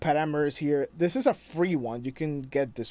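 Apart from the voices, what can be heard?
No distinct noise like a dog, phone or traffic.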